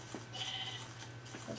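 A single sheep bleats in the Minecraft video game, a short synthetic bleat standing alone over a low steady hum, with a softer second call near the end.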